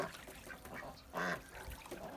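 Ducks quack in short bursts, fairly faint, with one louder harsh call midway amid a busy outdoor farmyard background.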